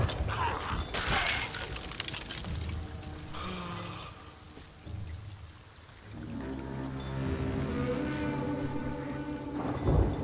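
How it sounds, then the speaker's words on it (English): Rainstorm in a pirate video game: steady rain with rumbling thunder and layered ambient game sound, a brief lull midway before the rain builds back up, close and fairly loud. "At least no one can get us in this storm"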